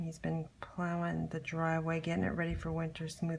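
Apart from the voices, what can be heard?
No everyday noise stands out behind the speech.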